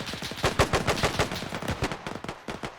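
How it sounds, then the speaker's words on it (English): Rapid machine-gun and rifle fire from a WWII battle in Arma 3 crackles in dense, overlapping bursts, with sharp repeated reports at moderate distance and no pause across the short stretch. "there's a lot of fire being exchanged over there"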